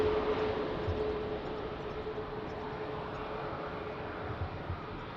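Airplane landing at Lisbon Airport on a rainy morning: a steady, fairly loud broadband roar of engines and wind with a faint whine, sustained throughout with no talk.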